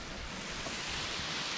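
Near Zermatt in the Swiss mountains, a waterfall produces a constant, dense roar of rushing water, loud and unbroken, with no talking over it.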